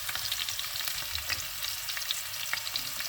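Onions fry with a dense, crackling sizzle in a pan that also holds dried red chilies and five-spice seeds, close and continuous with faint stirring scrapes and no talk.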